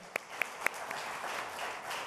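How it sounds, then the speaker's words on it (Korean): Applause at a political gathering as a lawmaker is welcomed: a few sharp individual claps at the start, then soft, fairly distant clapping from the audience. "박수로 환영해 주시면 감사하겠습니다."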